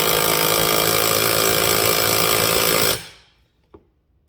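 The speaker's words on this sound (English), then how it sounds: "I use the electric impact," An electric impact wrench tightening a bolt during a ram rebuild on a Bobcat 743 skid steer runs loud and continuous for about three seconds, then winds down to silence, followed by a single faint clunk.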